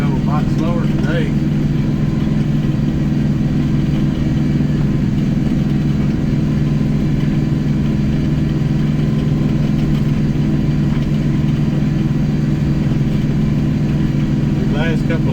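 Riding lawn mower engine running loud and steady while mowing a field of about 2.5 acres, a constant close drone with wind buffeting over it and no break for the whole stretch.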